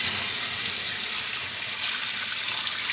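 Water running steadily from a tap while dyed merino and silk roving is rinsed, a continuous bright hissing splash at moderate level with no talk.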